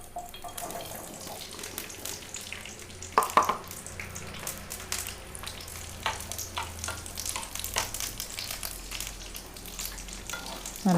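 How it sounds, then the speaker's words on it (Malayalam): Grapes drop into hot oil and sizzle briefly while being stirred for a simple grape pickle, a soft steady frying crackle with occasional sharper pops and clinks, no voices. "നമ്മൾ എടുത്തു വെച്ച മുന്തിരി ഇതിലിട്ടൊന്ന് ജസ്റ്റ് വാട്ടി കൊടുക്കാം."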